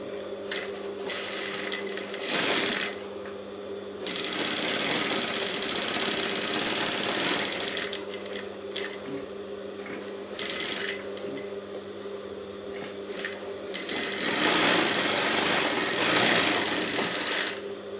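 A sewing machine runs in steady bursts while stitching a high-neck blouse, close and loud, with brief stops and restarts between runs.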